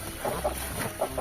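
A chicken clucking in short repeated bursts, several quick clucks close by over steady low background noise, no voices.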